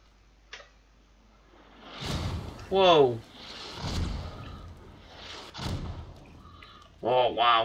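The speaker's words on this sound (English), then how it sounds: "That was some good mortars." Mortar shells landing in the video game Squad, several heavy thuds and booms spaced a second or so apart at mid distance, with a voice exclaiming in between.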